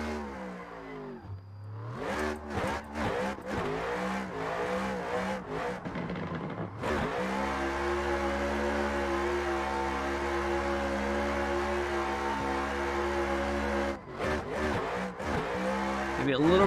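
A competition drift car in a racing simulator run on a CAMMUS 15Nm wheel, its engine revving hard and rising and falling in pitch, with tire squeal and skidding through slides, then a long sustained high-revving drone, close and loud.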